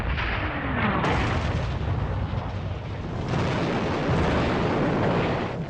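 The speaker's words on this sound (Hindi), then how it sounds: "इस पर ब्रिटेन ने गोलाबारी शुरू कर दी।" British naval guns shelling the French fleet in World War II: heavy, continuous booming artillery fire with overlapping blasts and rumbling roar, dense and loud throughout with no pauses.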